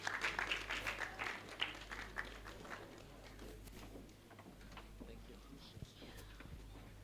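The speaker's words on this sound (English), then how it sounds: "Let's clap for them as they get off the stage." An audience claps for performers leaving a stage at an event, a faint, quiet patter strongest at first and thinning out under low murmuring voices.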